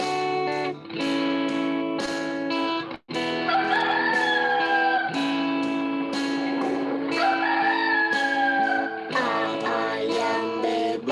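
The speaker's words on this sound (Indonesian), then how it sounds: "Ayam" A rooster crows repeatedly through a processed, electronic-sounding recording that stacks several harmonic tones, with the crows loud and up front and no voices heard.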